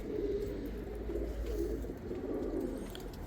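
Pigeons coo softly at a loft, their low, repeated throaty calls quiet and continuous against a faint background hum, with no voices.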